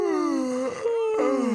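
A long drawn-out yawn into a microphone, close and loud, with a falling moan-like voice that dips and rises again.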